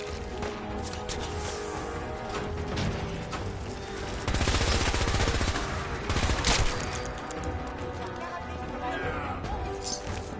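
A Gatling laser fires in Fallout 4 in dense rapid bursts amid a loud, chaotic battle, the heaviest barrage swelling midway, with someone talking over the action.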